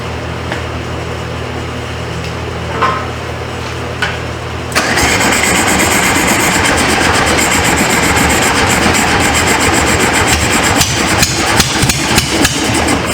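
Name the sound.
1973 Volkswagen Beetle engine running and idling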